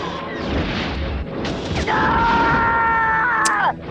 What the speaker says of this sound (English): Alright, let's use up some of these bombs.